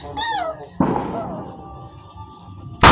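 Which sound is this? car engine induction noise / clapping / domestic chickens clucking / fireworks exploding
fireworks exploding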